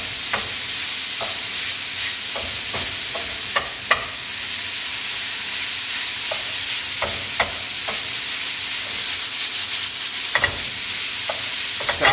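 Tofu fries in a pan for vegan spaghetti bolognese, a steady loud sizzle running throughout while a utensil scrapes and taps against the pan in irregular strokes.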